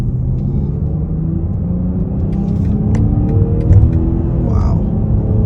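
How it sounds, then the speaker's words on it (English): A 2022 BMW X5 40i pulls hard on a multi-lane highway, its engine and exhaust giving a deep, steady rumble that builds as it accelerates, with road noise throughout. "I'm liking the little snarl through the exhaust too."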